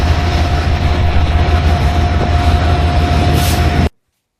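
Steady rumbling of a passenger train bound for Penn Station, Manhattan, rolling along the tracks, a constant low drone with a faint tonal whine, cutting off abruptly near the end.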